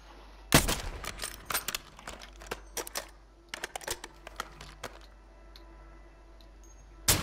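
Rapid sharp gunshots crack in a shooting video game, an initial loud blast followed by irregular bursts of clicky shots, then a quieter pause before one last shot.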